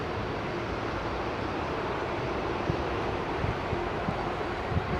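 An airplane taxis at Heathrow Airport, heard as a steady, broad roar of engine noise mixed with wind rumble, fairly distant and continuous, with no voices.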